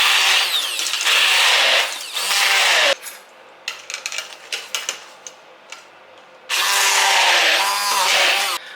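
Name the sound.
stick blender mixing pesto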